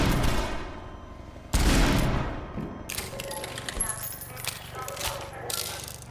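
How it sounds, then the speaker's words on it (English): Gunfire in the video game Half-Life 2, a sharp burst of loud shots followed by scattered rattling fire and metallic clinks, mixed with speech. "Stop shooting at me"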